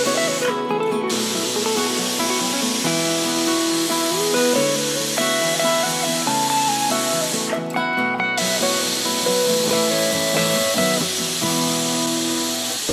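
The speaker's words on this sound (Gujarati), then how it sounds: "ત્રણ વિસલ થઈ ગઈ છે" A pressure cooker whistles while bottle gourd cooks on a gas stove: a loud, steady steam hiss runs throughout, with two brief, sharper bursts near the start and middle, layered over tonal background music.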